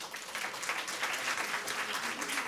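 An audience claps to vote on an answer during a talk at a French sustainability conference, a dense steady round of applause filling the whole moment at moderate loudness.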